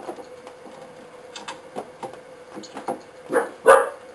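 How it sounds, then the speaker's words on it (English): A pet dog barks several times in short, sharp bursts indoors during a PC build, the loudest barks coming near the end with no voices. "Oh, the dog."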